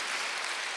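A church congregation claps together during a Sunday worship service, a dense, even wash of applause filling the whole short moment.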